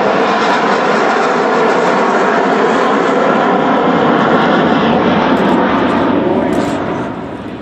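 A loud, steady jet roar fills the air as an Avro Vulcan bomber, XH558, passes close by at an air show display with its bomb bay closing, fading slightly at the end.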